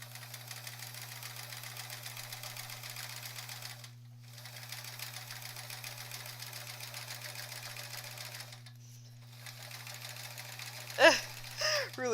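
A sewing machine stitches free motion quilting in steady rapid bursts, with two brief pauses. The sound is fairly quiet and close, and a few small handling clicks come near the end.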